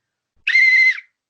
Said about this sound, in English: Let's blow this whistle.